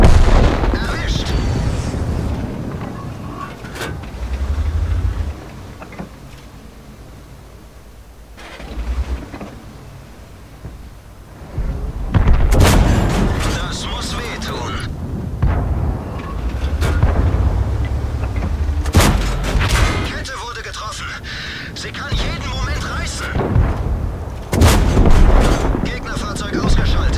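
Gunshots ring out in sharp, scattered bursts over a rumbling, booming background, some close and loud, others more distant, over roughly half a minute.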